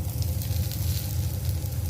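Pomfret fish wrapped in banana leaf cooks in a covered pan over a medium flame, giving a steady, dense sizzle with a low bubbling rumble, close and continuous.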